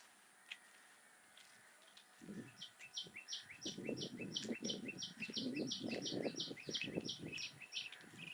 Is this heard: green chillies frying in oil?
no